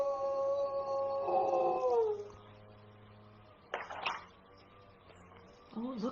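A drawn-out dog howl with a falling pitch, then a quieter pause before a brief yelp and the start of another howl.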